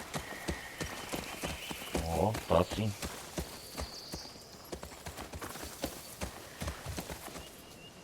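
Horse hooves clip-clop in a steady walking rhythm in the video game The Last of Us Part II, with a brief snort. A voice talks over part of it.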